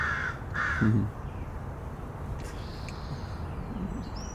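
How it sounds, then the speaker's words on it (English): Two loud crow caws in quick succession near the start, then only a quiet outdoor morning background with faint distant sounds. "Can you hear the crow this morning?"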